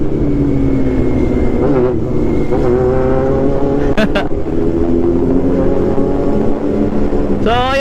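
A Honda CB400 Super 4 400cc motorcycle races, its engine screaming loudly and close with rising and falling revs, other bikes whining past at a race meet.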